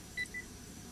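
Two quick electronic beeps, a phone message notification in the Indonesian horror game Pamali: The Tied Corpse, faint and close over low steady background hum.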